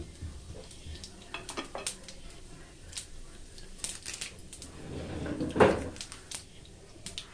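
Fenugreek, fennel and cumin seeds fry in oil in a pan, with a low crackling sizzle under clinking utensil stirs and scrapes, including one louder knock near the end.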